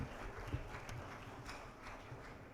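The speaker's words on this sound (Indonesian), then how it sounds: "Tepuk tangan sekali lagi." Audience applause at a school assembly in Makassar, a soft, distant patter of clapping from many hands, steady and low in level throughout.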